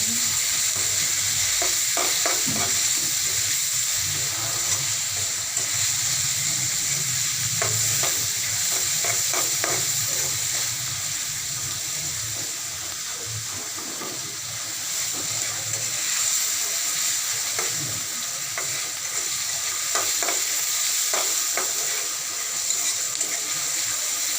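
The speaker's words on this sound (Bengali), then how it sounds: "তখন কি পেঁয়াজের মধ্যে লবণ দিয়ে ভাজবে" Onions fry with salt in a pot for a fish curry, a steady loud sizzle and hiss running throughout with repeated scraping strokes of a stirring spoon against the pot.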